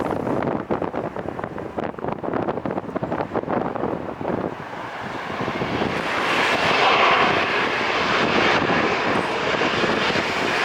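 A Lufthansa airliner at LAX airport roars past outdoors, its engine noise swelling from a rumbling, wind-buffeted passage into a louder, brighter jet whine toward the end, with no talk.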